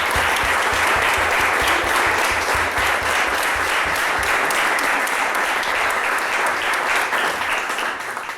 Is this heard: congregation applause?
yes